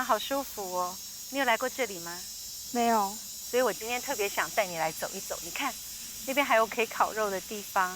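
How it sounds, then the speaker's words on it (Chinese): Summer cicadas drone in a continuous high, steady shrill at a park-like farm setting, running beneath two people chatting closely throughout. "对，知了在叫。"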